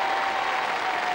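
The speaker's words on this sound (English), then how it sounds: "Round of applause, please, for Fiona." Brief burst of crowd applause at a knockout tournament event, a continuous dense patter of many hands, fairly distant and even for about a second.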